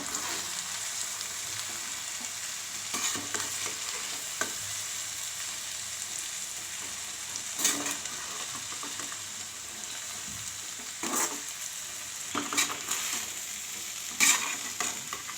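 Schezwan fried rice is stirred in a pan over a low flame, with a soft steady sizzle and intermittent scraping strokes of the spatula, fairly quiet and without talk.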